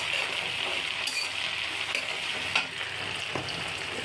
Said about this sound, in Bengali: তেজপাতা, আদা কুচি দিয়ে ফোড়ন দিচ্ছি